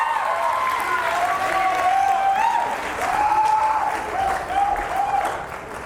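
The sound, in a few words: audience applause for speaker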